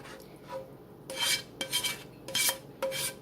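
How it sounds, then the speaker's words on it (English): A southwestern casserole is stirred in its dish, with scraping, clinking utensil strokes in short irregular bursts, near and fairly quiet, and no talking. "Just want to make sure that I stir it a little bit more to make sure all the flavors are in there."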